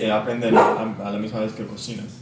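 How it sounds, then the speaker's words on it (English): A pet dog barks briefly during a home cooking demo, a short bark partly masked by someone speaking Spanish close by. "That was our dog"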